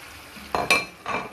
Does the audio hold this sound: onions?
yes